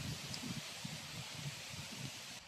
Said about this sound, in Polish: A wietrzysko nie odpuszcza.